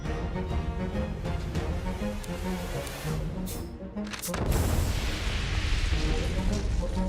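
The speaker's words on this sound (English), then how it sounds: "Increase the explosion size so it should reach it." An explosion in the video game The Adventures of Elliot: The Millennium Tales, one loud burst landing midway and then a broad rumbling wash after game music, close and strong, with no talking.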